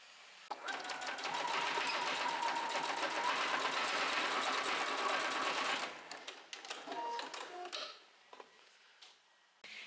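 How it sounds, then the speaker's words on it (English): A sewing machine stitches back and forth over elastic and a strap on a top, running fast and steady for several seconds, then stopping and giving way to brief clicks and handling noises. "now I'm going to sew over it a few times again"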